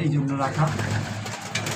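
Pigeons in a loft, some of them former racers kept as favourites, coo close by in low, rolling calls while someone talks over them.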